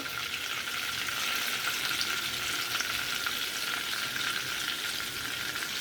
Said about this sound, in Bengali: লবঙ্গ, দারচিনি, এলাচ, এইগুলো সব এখানে আমরা তেলে ভালো করে দিয়ে দেবো।